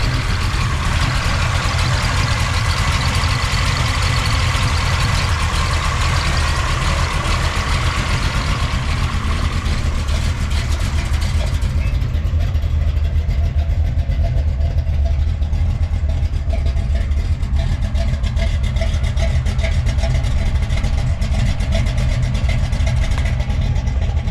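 A 1967 Chevrolet Chevelle with a big block engine idles loudly and close, a deep continuous rumble with steady low throb that runs the whole time, its upper hiss easing partway through.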